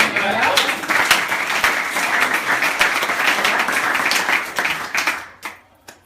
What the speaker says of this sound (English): Can I get an applause?